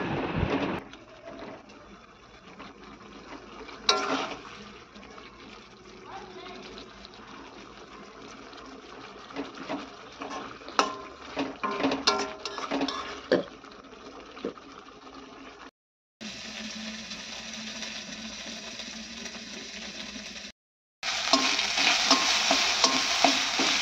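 Yardlong beans fry in a pan with spice masala, giving a steady sizzle broken by repeated stirring scrapes and clinks, with a brief silent gap followed by louder, denser frying.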